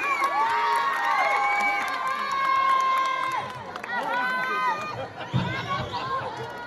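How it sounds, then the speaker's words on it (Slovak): A festival crowd in Ústí nad Labem cheers and whoops loudly, with excited shouting voices and a brief burst near the end, probably alongside some applause. "veľký potlesk pre vás"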